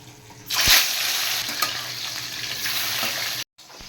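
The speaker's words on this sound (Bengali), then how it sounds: "এদিকে তেল গরম হয়ே গেছে, আমি এবার ভেজে নেব" Katla fish pieces coated in turmeric hit hot oil, and a loud sizzle bursts in after a quiet start and holds steady, then cuts out for a moment before resuming.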